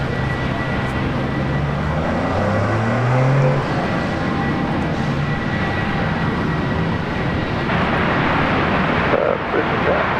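A Jetstar passenger jet on runway 19 Left at Brisbane Airport gives a steady, broad engine roar with a low rumbling swell, heard from a distance across the airfield with background voices mixed in.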